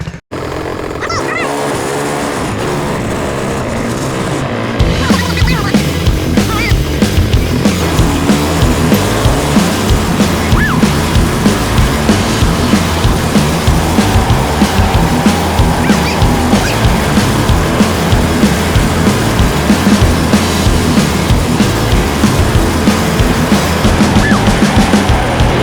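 A small go-kart engine runs steadily through an outdoor ride, a continuous buzzing drone with rough pulsing that stays loud and close after a brief quieter start.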